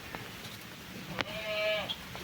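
A Cypriot goat bleats once in a drawn-out, wavering call at a goat farm during a livestock sale, fairly close, with a brief sharp knock just before and faint background noise.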